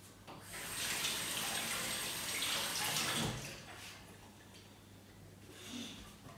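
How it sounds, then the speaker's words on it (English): Tap water runs steadily into a sink as hands are washed between cupcake decorating steps, a broad rushing wash that swells and eases over several seconds with a faint ticking underneath; no talking. "I'm just going to quickly wash my hands"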